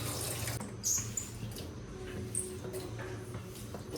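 Tap water runs steadily into a sink while dishes are rinsed, a soft continuous splash with a few light clinks, fairly quiet and with no speech.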